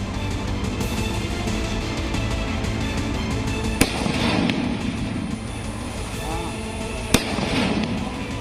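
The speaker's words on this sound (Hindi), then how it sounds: "दिवाली या किसी जश्न में फोड़े जाने वाले ये पटाखे अब दहशत दूर करने के लिए दागे जा रहे हैं" Firecrackers going off at night in Bahraich to scare away man-eating wolves, two sharp distant cracks standing out over a steady murmur of crowd noise and street rumble, with faint voices in the mix.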